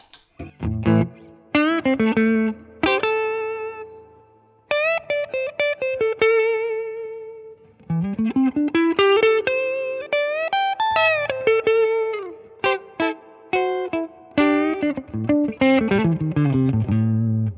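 A Mexican Stratocaster electric guitar plays clean through a Fender Tone Master Deluxe amp with an impulse response. Single notes and short chords ring out in phrases, with sliding bends and clear pauses between runs, and nobody talks.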